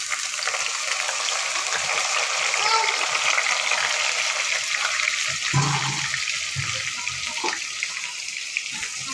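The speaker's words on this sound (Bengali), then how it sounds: "পেঁয়াজটা আমরা কিছুক্ষণ ভেজে নিব।" Crushed and chopped onions fry in hot oil for a tripe bhuna, a loud, steady, close sizzle, with a voice heard briefly partway through.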